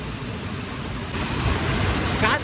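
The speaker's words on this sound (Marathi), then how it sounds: "धबधबा खाली डायरेक्ट" A waterfall at Pahine, Nashik, rushes loud and constant in a dense roar that swells slightly partway through, close at hand.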